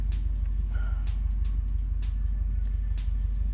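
A Subaru WRX sits idling at about 800 RPM, a steady low rumbling drone with an even pulsing beat and faint ticking, close and unchanging.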